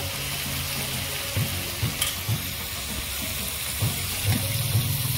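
Spices sautéing in oil in a pan for a raw mango and rohu fish curry, with a steady sizzle broken by several scraping stirs of a spoon, close and alone.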